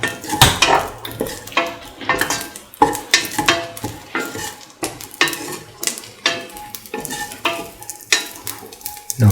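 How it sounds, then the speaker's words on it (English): A spatula stirs and scrapes ingredients sautéing in a pan for sweet coconut milk pasta, irregular clattering scrapes and taps repeating every fraction of a second over a soft sizzle, close and fairly loud. "Keep on sauteing."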